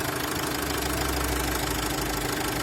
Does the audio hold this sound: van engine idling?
yes